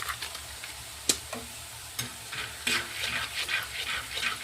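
Grains roasting in a pan, stirred with scraping strokes and crackling faintly, a few sharp clicks standing out from the steady hiss.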